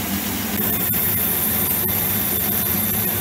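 A Holbrook 19 metal lathe turning a workpiece with a chip deflector in place, producing a steady, loud mechanical hum and drone with faint ticks running throughout and no talk.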